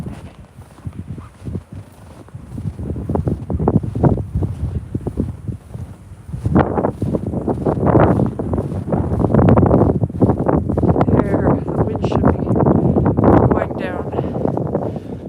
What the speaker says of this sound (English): Oh, temporary wind.